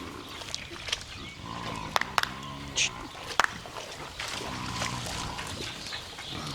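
American Guinea hogs being herded on a homestead, with soft grunts and squeals among rustling and footsteps while people talk and call out nearby.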